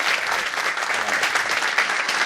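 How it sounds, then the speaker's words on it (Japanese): Steady, dense applause from a lecture audience fills the whole moment, loud and continuous without a break. "今一度大きな拍手をお願いいたします"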